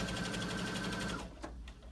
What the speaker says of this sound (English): I'm going to start sewing on the Sophia.